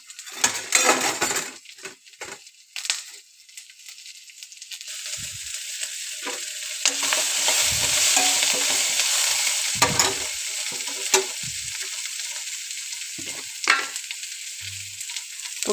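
Ginger garlic paste and curry leaves sizzle in hot oil for ghee rice, with a loud steady hiss, clinks of a metal spoon stirring and scraping the pan, and short quieter gaps.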